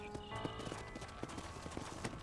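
A horse in the Western video game Red Dead Redemption clip-clops at an easy walk, hooves tapping in a steady quiet rhythm over a low game ambience, with no voices.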